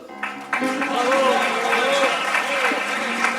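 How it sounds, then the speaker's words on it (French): A studio audience at a live televised show applauds, a dense continuous patter of clapping that swells after a moment and carries on beneath a speaking voice. "On applaudit"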